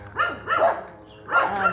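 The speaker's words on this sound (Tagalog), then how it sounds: "May aso guys." A dog barks on a roadside near a closed camp in Indang, Cavite: three distinct barks in quick succession, moderately close and clear, with a short gap before the last.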